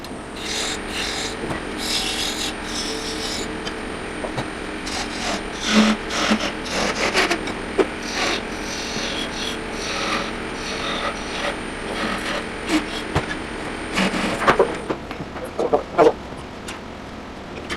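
Wood spinning on a lathe is shaped into a stylized owl with a cutting tool, giving continuous rough scraping and rasping with louder bursts throughout, while a voice speaks at times.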